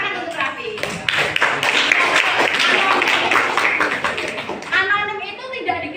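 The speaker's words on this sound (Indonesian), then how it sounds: "Sip, tepuk tangan untuk Raffi." Children in a classroom clap for a student, a quick burst of many small hands that swells and fades, with a teacher's voice speaking before and after.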